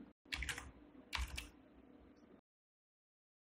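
Typing on a computer keyboard during an Excel Power Query entry: two short bursts of close, clicky keystrokes over a quiet background, then silence.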